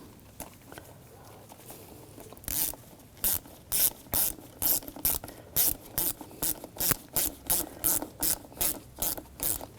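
Ratchet tightening a hose clamp on a 2006-2009 Audi S4 4.2L V8 engine: after a quiet start, a steady run of about eighteen crisp, evenly spaced clicks, close and fairly loud.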